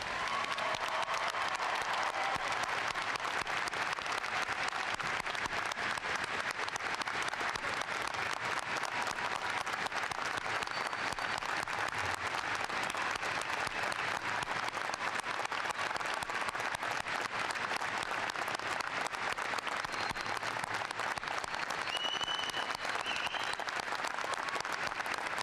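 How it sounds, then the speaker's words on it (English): Sustained applause from a large audience at the 2015 University of Alaska Fairbanks commencement, steady dense clapping filling the hall for nearly half a minute without letting up. "I would like you to give him a resounding applause right now"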